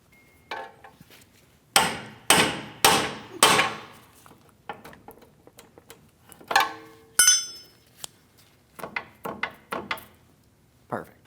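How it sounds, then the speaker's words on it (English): Hammer blows on a pickle fork wedged between a 2016-2025 Chevrolet Malibu's steering knuckle and ball joint: loud, sharp metallic strikes, a quick run of four then scattered hits with clinks, close up. "I'm going to use a pickle fork in this area, which is going to help separate the steering knuckle from my ball joint."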